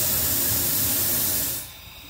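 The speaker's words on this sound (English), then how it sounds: "There's a ring inside that has 12 holes in it, and it draws air up the stack using steam." A steam blower on a live steam engine boiler hisses loudly and steadily, drawing air up the stack through a twelve-hole steam ring, then drops sharply to a quieter hiss near the end.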